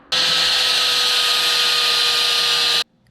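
A power tool cuts a slot into a part from a wrecked GSXR 600 motorcycle, a loud steady high-pitched whine held for nearly three seconds at close range before stopping abruptly.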